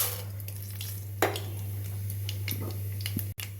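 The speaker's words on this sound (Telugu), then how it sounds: "పోపు గింజలు వేస్తున్నాను." Tempering seeds hit hot oil in a heated pot while making onion karam, giving a soft crackling sizzle with a few light utensil clinks over a low steady hum.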